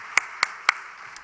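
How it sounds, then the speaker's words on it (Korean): A few scattered claps from a church congregation during a Sunday worship service welcoming a newcomer, four sharp, isolated hand claps spaced evenly and heard faintly in a quiet room. "우리 환영의 박수 드리겠습니다"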